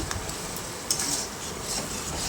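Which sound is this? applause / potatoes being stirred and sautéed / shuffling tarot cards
potatoes being stirred and sautéed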